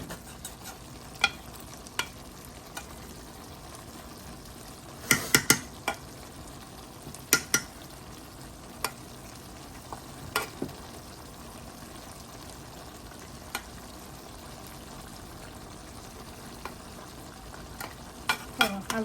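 Small fish chorchori with potatoes cooking in a pan, a soft continuous sizzle broken by irregular sharp clinks and scrapes of a spatula stirring, fairly quiet and close.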